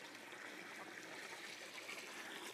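Water drains steadily out of low-tech hydroponic chicken fodder trays in a flood-and-drain setup, a continuous trickling wash with no pauses, moderately faint and unbroken by any voice.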